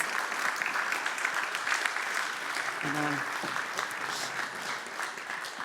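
An audience applauds at an automotive innovation awards ceremony, with a steady wash of clapping across the whole stretch and a brief tonal musical note partway through.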